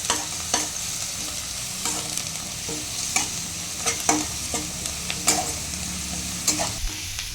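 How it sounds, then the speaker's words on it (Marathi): Ginger-garlic paste sautéing in a pan for spicy chicken masala, a steady close sizzle broken by repeated sharp scrapes of a spoon stirring against the pan, no voices. "अद्रक लसूण व्यवस्थित यामध्ये मिक्स करून परतवून घेऊया"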